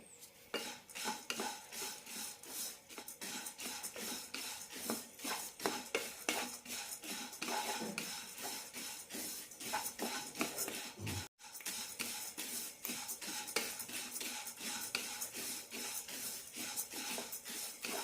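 A spoon scrapes and stirs moong dal dry-roasting on medium flame steadily against a metal pan for a long stretch, with a constant clatter of utensil on metal and a faint background hiss.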